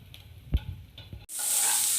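Chopped ginger, green chili and garlic hit hot oil for a masoor dal muri ghonto: a few soft knocks and taps, then an abrupt loud, bright sizzle that swells and holds steady close up.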